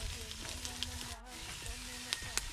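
Ginger sizzles and crackles in a hot pan as a goat kaldereta is cooked, a close, continuous frying hiss with small pops and a faint voice in the background.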